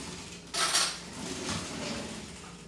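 A small spoon clinks and scrapes against a bowl of chocolate mousse cream, with one brighter clatter early and then soft, close handling under a quiet room hum.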